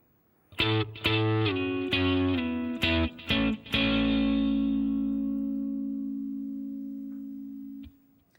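A short electric guitar phrase from an intro solo, with a quick run of plucked notes and a couple of double stops. It ends on one held note that rings and fades over several seconds, played alone without talk.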